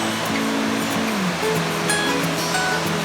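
A small waterfall about five to six feet tall on a creek, with cascades upstream, gives a loud, steady, unbroken rush of falling water close by, with no voices.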